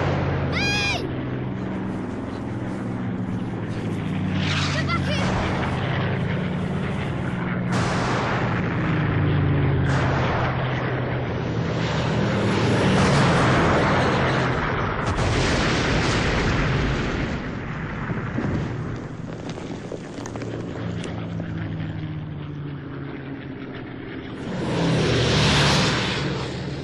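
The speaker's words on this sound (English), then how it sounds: "They've gone. I don't like bombs." Bombs exploding with aircraft passing overhead, heavy rumbling blasts and a droning roar that swell and fade across a long stretch, loud and continuous with brief high squeals.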